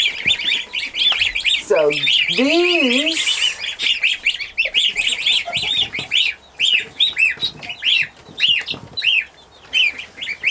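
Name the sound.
Chinese crested baby birds chirping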